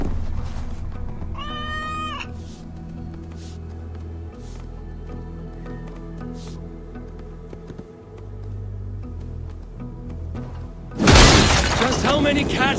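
A short rising cat meow rings out in the game Assassin's Creed Valhalla amid faint background ambience, followed near the end by a loud crash of breaking rubble.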